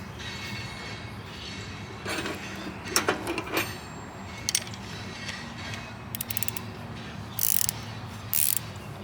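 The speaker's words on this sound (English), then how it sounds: "Handy dandy ratchet wrench." A ratchet wrench clicks in short bursts while the fuel filter on an Onan generator engine is screwed back on. The ratcheting is close and moderately loud over a low steady background hum, with no talking.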